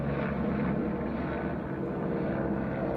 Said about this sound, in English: The helicopter can never be in peace today